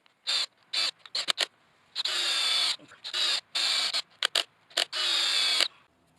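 A power drill drives 3-inch screws into a wooden mailbox post in a series of short whirring bursts and longer sustained runs, each stopping abruptly, close and loud with no speech.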